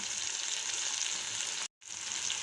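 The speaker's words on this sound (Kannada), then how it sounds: "ಟೊಮ್ಯಾಟೋಸು ಸ್ವಲ್ಪ ಫ್ರೈ ಆಗಬೇಕು. ಟೊಮ್ಯಾಟೊ ಬೇಯ್ತಾ ಇದೆ, ಇನ್ನೊಂದು 2 ಮಿನಿಟ್ಸ್ ಅದು ಕುಕ್ ಆಗಬೇಕು" Tomatoes fry in a pan for tomato rice, giving a steady close hiss of sizzling oil with no voices, interrupted by a short silent gap just before the end.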